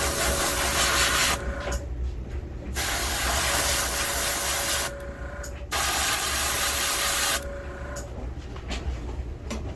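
An airbrush blows air to dry fresh paint on a vintage Storm Wiggle Wart fishing lure, making three long, close, steady hissing bursts separated by short quiet pauses.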